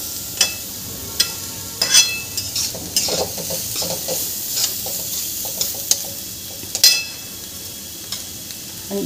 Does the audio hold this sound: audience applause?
no